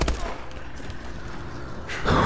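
Turret gunfire in Call of Duty Advanced Warfare, heard as a dense, steady wash of rapid automatic shots running for about two seconds and swelling louder at the very end.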